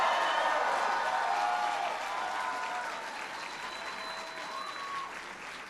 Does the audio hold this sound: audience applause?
yes